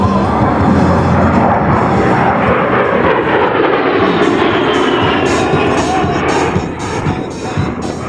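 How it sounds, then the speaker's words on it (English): An A-10 Warthog jet at the 2011 Wings Over Wayne airshow flies a level 360-degree high-G turn, making a loud sustained engine roar with a slowly sweeping pitch that eases slightly near the end. "now repositioning his aircraft to perform a level 360-degree high G turn"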